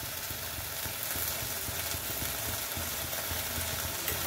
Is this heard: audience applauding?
no